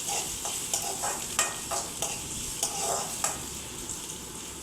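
Long-sliced onions sizzle steadily in a pan, with a spoon stirring through them in repeated scraping strokes every second or so, close and fairly loud with no talking.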